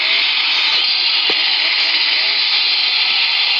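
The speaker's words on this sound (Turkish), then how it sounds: "Testere gelmiş." Chainsaw enemy in the video game Resident Evil 4 Mobile Edition, its saw engine whining loud and unbroken in a high, buzzing drone that stays steady the whole time.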